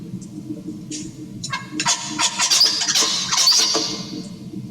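A songbird sings a string of bright, chirpy syllables up close, and its song is cut off and restarted when the singing-control region HVC is optogenetically stimulated. No one speaks.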